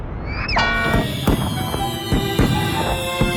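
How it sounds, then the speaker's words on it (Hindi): Fireworks whistle upward and crackle, followed by a string of sharp pops and bangs over a steady hiss, loud and close. "आतिशबाजी के लिए धन्यवाद"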